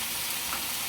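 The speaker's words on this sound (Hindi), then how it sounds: "फ्लेम को हाई करेंगे इस स्टेज पे और कैप्सिकम ऐड करेंगे।" Capsicum sizzling and frying in a pan over a high flame for Chinese rice, a loud, continuous hiss without pauses and no voices.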